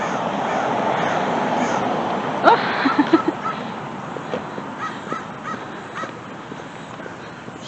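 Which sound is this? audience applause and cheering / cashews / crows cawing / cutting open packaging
crows cawing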